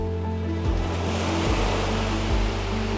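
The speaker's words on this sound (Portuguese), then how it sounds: "As ondas calmas quebram na areia." Calm ocean waves break steadily on a sandy beach at Balneário Camboriú, a continuous broad wash of surf with several soft low surges rolling in over about three seconds, close and fairly loud, with no voices.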